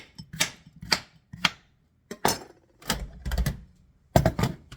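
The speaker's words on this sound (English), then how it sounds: "I'm getting my cutting board out and I'm just cutting off the ends" A knife chopping the ends off a zucchini on a cutting board, a run of sharp separate thwacks, close and clear, with short pauses between cuts and a quick cluster of chops toward the end.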